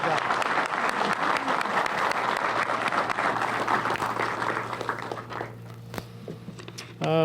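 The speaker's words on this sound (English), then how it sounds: "How about a round of applause?" An audience at a police academy (BLET) graduation ceremony breaks into sustained applause, thick and steady at first, then thinning into scattered claps as a voice begins speaking near the end.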